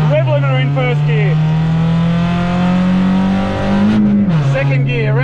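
A Toyota Yaris on a track accelerating hard in first gear, its engine note rising steadily and loud, then dipping briefly as the revs drop before climbing again, with a voice over it.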